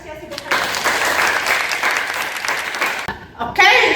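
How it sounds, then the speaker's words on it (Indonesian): Students in a university management class applaud at the close of a whiteboard assessment session. A dense burst of clapping fills most of the moment, then cuts off abruptly, followed by a short louder sound at the end. "Kita tepuk tangan berapresiasi buat kalian."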